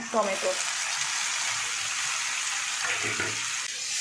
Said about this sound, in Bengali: টমেটোটাকে ভালো করে পেঁয়াজের সঙ্গে কষিয়ে নেব